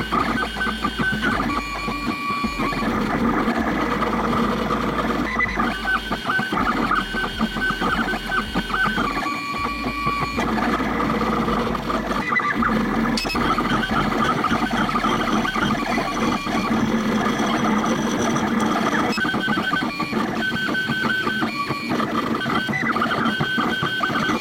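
A 3D printer printing a skull model in blue PLA, its stepper motors whirring and chirping in steady, shifting mechanical tones with a low hum underneath, close and continuous throughout.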